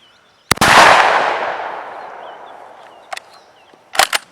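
SAS 12 shotgun firing high brass shells outdoors: one loud sharp blast with a long rolling echo, then a small click and a quick pair of shots near the end.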